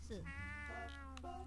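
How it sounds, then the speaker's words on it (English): A cat in the video game Chulip lets out a few short meows in a quick run, small and clear against a low background hum. "Her little cat comes out here as well."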